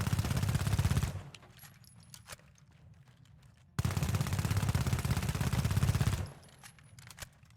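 Automatic gunfire with recoil smoothing from an M11 in the game The Finals comes as two loud, rapid bursts, each lasting a few seconds, with quieter clicks and handling noise between them.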